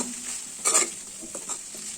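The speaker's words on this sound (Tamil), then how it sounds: "இப்போ நல்லா மிக்ஸ் பண்ணி விடுங்க" Raw banana poriyal is stirred in a hot pan, with a steady high sizzle and a couple of short spoon scrapes.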